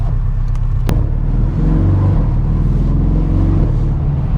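A Porsche 718 Boxster GTS engine hums and revs close by with the convertible top open, its pitch rising and settling, with a sharp click near the start.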